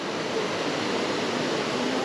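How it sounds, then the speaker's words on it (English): River water rushing steadily under a rough-looking bridge in the rocky Peneda-Gerês landscape, a dense unbroken wash of flow heard alone and fairly close. "the water's flowing through there"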